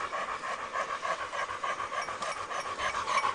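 Tired hunting dogs pant rapidly and steadily at close range, a continuous breathy rhythm of quick in-and-out breaths with no talk over it, out in the field on the opening day of the hunting season.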